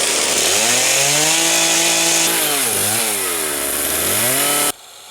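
A Stihl MS-660 chainsaw bores a mortise into a wooden bench leg, its engine whining steadily close by with pitch rising and dipping as the bar bites, then cutting off abruptly near the end.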